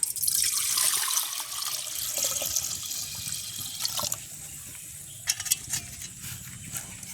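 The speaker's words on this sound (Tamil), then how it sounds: "நாங்கள் பயிருக்கு அளவான தண்ணி விடுவோம்" Water pours and splashes into a small cooking pot nearby for cooking legumes, a soft, continuous trickle with a few brief drips and clinks toward the end.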